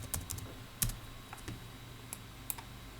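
Someone types a short command on a computer keyboard: a sparse, irregular run of quiet, close keystroke clicks with pauses between them.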